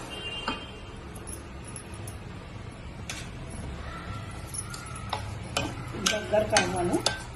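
A spoon stirs a coconut, milk and milk powder barfi mixture in a pan, giving soft scraping and scattered sharp clicks against the pan over a faint sizzle.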